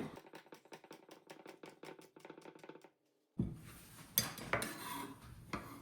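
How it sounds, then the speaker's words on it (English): A knife taps rapidly and evenly on a cutting board chopping green and red chilies in a quick rhythm, then stops and gives way to clattering, scraping kitchen sounds. "We are chopping 1 green and 1 red chili."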